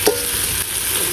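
Ginger garlic paste being stirred and sautéed in a pot over a wood fire for chicken biryani, giving a steady close sizzle with the scrape of stirring through a short burst.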